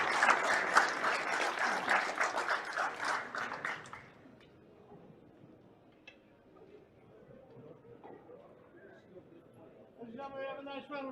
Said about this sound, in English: Have a nice round of applause, Mr. Predator Arcos II.